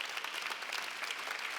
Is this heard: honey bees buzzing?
no